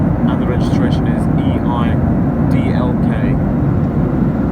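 Steady, loud broadband roar inside the cabin of a Ryanair Boeing 737-800 (737-8AS with winglets) descending into London Stansted, continuous engine and airflow noise with a voice talking over it.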